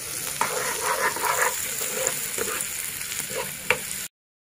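Vegetables for egg fried rice fry and are stirred in a pan, a steady close sizzle with scraping spatula strokes and a few sharp clinks, alone without talk, ending abruptly.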